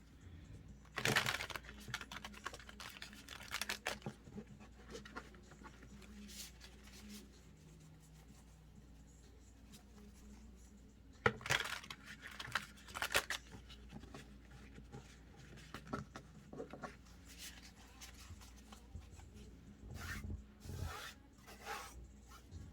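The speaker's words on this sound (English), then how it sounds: "I'll shuffle a little bit on camera though." Tarot cards shuffled by hand in soft, irregular bursts of rubbing and riffling, quiet and close, with brief pauses between handfuls.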